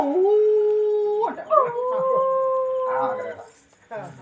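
A voice imitates dogs howling with long wavering tones, breaking into a short yelp, then another drawn-out howl, close and loud.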